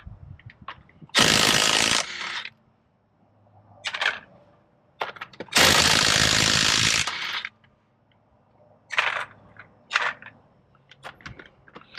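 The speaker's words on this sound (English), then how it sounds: "we have a 19mm here that's going to take off the lug nuts" Lug nuts on a 2001 Buick LeSabre are spun off with a 19mm socket on an air impact wrench: two long, loud bursts of rattling hammering, with clinks and metallic clatter of nuts being tossed down between them, and no talk.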